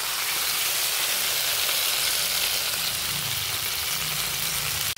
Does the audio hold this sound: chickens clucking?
no